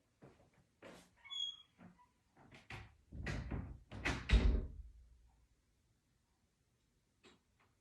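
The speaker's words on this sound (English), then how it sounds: "So I'm going to go into the other room and shut the door" Door in a nearby room being handled and shut, a few soft clunks and rattles leading to a heavier thud, then quiet apart from a faint final tap.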